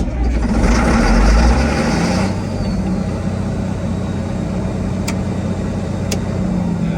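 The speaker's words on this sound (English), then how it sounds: "Now that sounds like a truck." A loud truck engine rumbles steadily, revving harder for the first couple of seconds before settling into a deep idle, with two faint clicks later.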